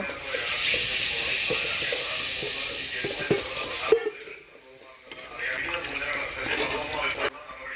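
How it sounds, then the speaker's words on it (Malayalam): A loud, close sizzle of frying masala with mango and spices, broken by stirring clatters, cuts off sharply as water is poured in, then a softer bubbling hiss returns. "കുറച്ച് വെള്ളം ഒഴിക്കുന്നുണ്ട് കേട്ടോ."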